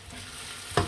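Floured food goes into a black Teflon frying pan, a soft steady sizzle that ends in a brief louder burst of frying, close and with nobody talking.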